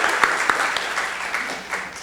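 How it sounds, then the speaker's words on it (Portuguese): An audience at a young researchers' gathering gives the performers a round of applause, dense continuous clapping with a few sharper claps standing out, fairly close. "Uma salva de palmas para os nossos performers"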